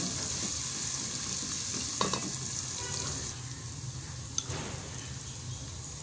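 Chicken feet frying with ginger garlic paste sizzle steadily in a hot pan, with occasional stirring scrapes and a sharp clink of a utensil against the pot.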